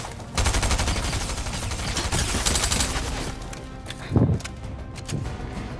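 Bursts of web shotgun fire in the Fortnite video game, a dense rattling volley followed by a heavier thump and scattered shots, loud and close.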